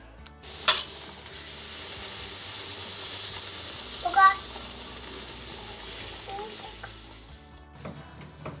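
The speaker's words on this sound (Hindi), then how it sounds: "अभी एक दो पूड़ियाँ और सेकेंगे।" Pooris frying in hot oil for a chana aloo breakfast, a steady broad sizzle running throughout with a couple of sharper clinks of a utensil near the start and middle.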